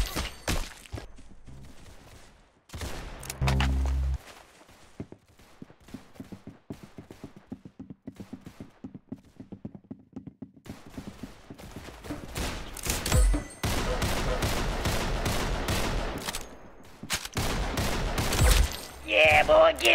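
Roblox Arsenal gameplay gunfire: scattered single shots and short bursts give way to dense rapid fire, loud and close, with talk in the background.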